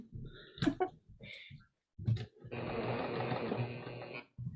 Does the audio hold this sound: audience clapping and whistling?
no